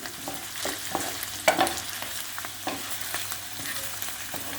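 Eggplant seasoned with black pepper, red pepper flakes and salt is stirred in a hot pan, giving a soft steady sizzle broken by scraping, clinking strokes of a spoon against the pan.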